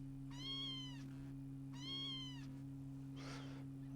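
Two drawn-out cat meows routed into the second oscillator input of a Behringer Neutron synthesizer, sitting over a steady low synth drone, followed by a brief noisy burst near the end.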